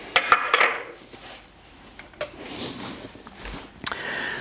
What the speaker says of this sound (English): this little spoon is amazing for getting everything out of the bowl